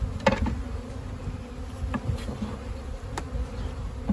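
Honey bees buzz around an open hive during requeening, a continuous close drone with individual bees passing near and away, and no talking.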